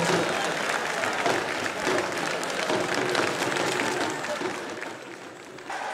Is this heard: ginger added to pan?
no